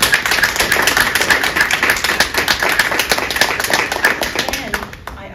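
A small audience claps for graduates at a Native graduation celebration, quick close handclaps in a dense rhythmic patter that tapers off near the end, with a few voices mixed in.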